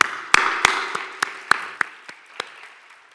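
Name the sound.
audience applause for speakers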